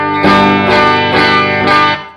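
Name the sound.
electric guitar, out-of-phase pickups with distortion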